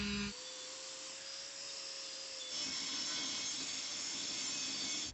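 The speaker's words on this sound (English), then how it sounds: "There are the welds that hold it. We are gonna grind them out" An angle grinder cuts out the welds on a steel wheel from a BMW E36 in a workshop, with a sustained high, loud grinding whine that shifts pitch partway through as the load changes, no voices.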